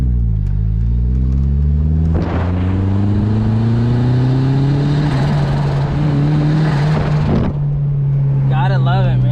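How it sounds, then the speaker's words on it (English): Turbocharged Mazda Miata engine pulling hard, a loud rising drone that ends in a sharp fluttering turbo surge with the blow-off valve blocked, followed by a steady idle and a brief chirping flutter near the end. "turbo surge"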